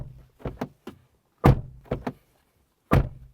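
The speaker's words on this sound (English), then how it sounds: "This is what the door slam sounds like." Car doors of a 2024 MG3 hatchback slammed shut several times, each a loud close thud with softer latch clicks in between, alone with no talk.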